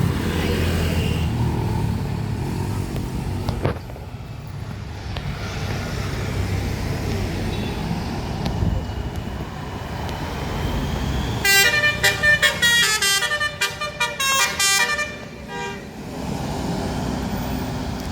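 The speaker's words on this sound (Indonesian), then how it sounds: "Bus yang akan kita naikin datang dan tiba." A Tunggal Jaya intercity bus with a Primadona Roxy body pulls in amid road traffic, rumbling low and steady. Near the end a loud, rhythmic multi-tone horn sounds in a quick series of blasts.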